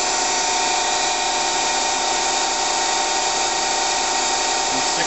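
A Daewoo Puma 6G CNC turning center runs at 1600 RPM, giving a steady, loud, continuous high mechanical whine with a constant hum throughout.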